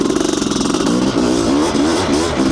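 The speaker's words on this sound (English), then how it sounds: "I'm on the monster bike." Honda CR500 enduro two-stroke on single-track trail, engine pulsing at idle then blipping through several sharp revs, loud and close with a raspy, choppy tone.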